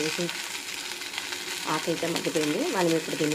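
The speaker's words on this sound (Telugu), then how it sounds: "నూనె వేసానండి ఆకు వేయించుకోవడానికి" Mint leaves fry in hot oil in a kadai, giving a steady close sizzle with stirring, while a voice talks over it.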